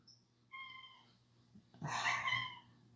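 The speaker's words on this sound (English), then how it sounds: "I'm very sorry if you can hear my cats, because they are definitely a handful and a half" Pet cats meowing indoors: a short faint chirp, then a clear mid-length meow, a pause, and a louder, longer drawn-out meow close to the microphone over a quiet background hum.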